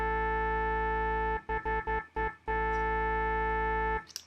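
Womp bass synth patch built in Reason with filter resonance near maximum, a loud sustained harmonic tone with a brief rhythmic stuttering section of choppy pulses midway before the steady drone returns.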